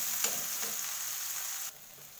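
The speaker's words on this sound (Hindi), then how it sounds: "और इसको चलाएंगे और तब तक चलाएंगे जब तक ये पेस्ट तेल छोड़ने ना लगे।" Masala paste fries in oil in a pan while being stirred for a mushroom curry, a steady close sizzle with a few scraping stir strokes, cutting off near the end to a quieter hiss.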